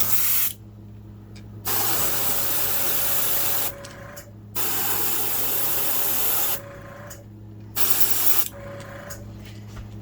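An aerosol spray can lays another coat of paint on a guitar pedal in four hissing bursts of a second or two each, loud and close, with quiet gaps between.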